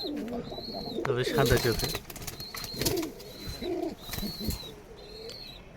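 Rajshahi Giribaz and Pakistani breed pigeons coo in repeated soft calls, close by, beneath someone talking steadily throughout.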